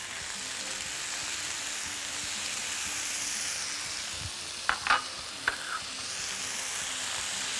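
Chicken sizzling and being stir-fried with carrots in a hot pan, giving a steady, close frying hiss with a few sharp clinks of a utensil against the pan near the end.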